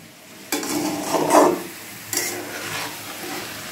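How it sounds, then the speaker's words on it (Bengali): Chopped onions go into a pan with chicken for dhaba-style chicken masala and are stirred. A sudden sizzle is followed by a couple of scraping stirs, close and moderately loud. "এবার আমি পেঁয়াজ কুচিগুলো দিয়ে দিচ্ছি। এবার এটাকে একটু ভেজে নেব"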